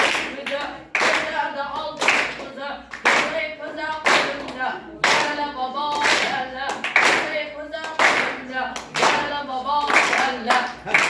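At a students' concert, an audience claps to welcome the Parvoz team, winners of a national good-mood contest. Continuous rhythmic clapping runs throughout, with a voice speaking over it.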